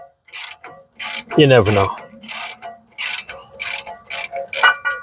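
Ratchet wrench clicking in repeated short bursts while loosening red-Loctited rear brake caliper bolts on a Ford Explorer XLT, close and fairly loud, with a brief grinding strain of the stuck bolt partway through and a few spoken words.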